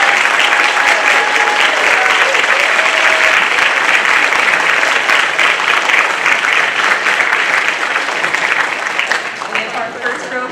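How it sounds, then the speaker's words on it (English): A large crowd at a Duke engineering master's hooding ceremony gives graduates a loud, sustained round of applause that continues evenly for about ten seconds before gradually tapering off. "One more round of applause for our graduates."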